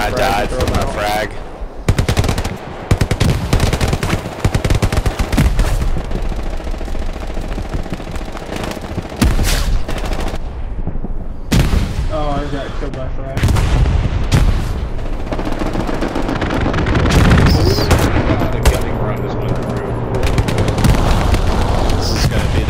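Dense gunfire and grenade blasts from the Hell Let Loose battlefield in Hürtgen Forest, with sustained automatic bursts, sharp single shots and heavy booming explosions, loud and continuous throughout with faint voices underneath.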